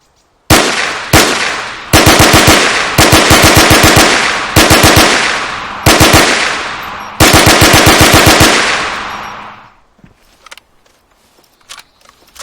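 A drum-fed machine gun in Arma 3 with the IFA3 mod fires seven loud, close bursts of rapid automatic shots, each ringing out with a decaying tail, followed by faint clicks and quiet handling noise.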